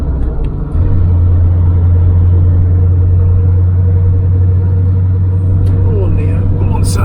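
A camper van overtaking in fifth gear gives a loud, steady low engine drone with road rumble throughout, and someone talks over it.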